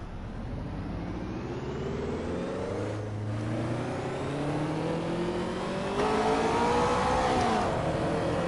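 A turbocharged Ferrari revs in Assetto Corsa, its engine note climbing steadily through the gears as it accelerates, loud and continuous with no voices.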